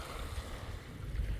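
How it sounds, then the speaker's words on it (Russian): Calm Black Sea at a beach where mullet are fished with feeder rods, gentle waves washing steadily with low rumbling surf and wind noise, no voices. "Море спокойное."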